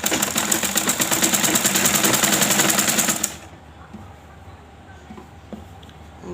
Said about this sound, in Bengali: আর ঘুরিয়ে ঘুরিয়ে পাইপিংটা আমি সেলাই করে নেব